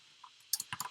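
A computer keyboard is typed on during a live coding session. A few quick, quiet keystrokes click in a short burst against near silence.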